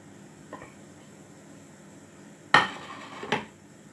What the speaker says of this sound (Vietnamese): Khi nước đang sôi thì mình sẽ thả bánh vào nhé.